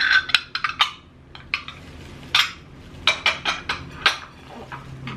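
Ceramic plates and dishes are handled and set down, producing a series of sharp, close clinks and clacks at irregular intervals with quiet gaps between.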